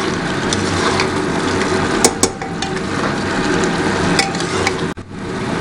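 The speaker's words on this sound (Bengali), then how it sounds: "নিয়ে এবার জিনিসটাকে ভালো করে আমরা নাড়াবো।" Kashmiri red chili powder mixture being stirred in a pan for junglee laal maas, a close, steady sizzle with repeated scraping spoon strokes and a couple of sharper knocks against the pan.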